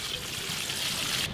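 Water poured into a cooking pot for Afghani kabuli pulao, a short continuous splashing pour with a bright hissing stream, close and steady, no voices.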